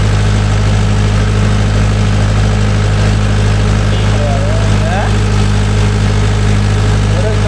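A Mahindra 575 DI tractor engine runs steadily at a constant drone, loud and close throughout, with faint voices in the background.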